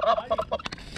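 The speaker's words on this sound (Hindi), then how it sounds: "ये रहा टर्की" A turkey on an organic farm gobbles in a quick rippling run of calls, close and fairly clear, followed by a few short softer sounds.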